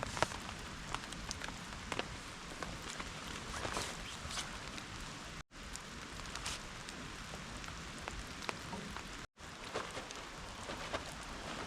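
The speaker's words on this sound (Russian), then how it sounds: "дождик идет. Ну, в принципе, не сильный." Light rain falls in a misty mountain forest as a steady soft patter of drops on surfaces, close and continuous, with two brief dropouts.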